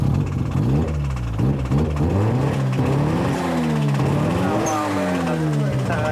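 A car engine rumbles loudly nearby, revving up and down repeatedly in rising and falling surges.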